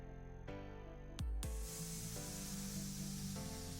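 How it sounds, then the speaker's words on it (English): Face mist is sprayed onto a face as one steady, close hissing burst lasting a few seconds, with soft music playing underneath. "So I'm just going to spray my face"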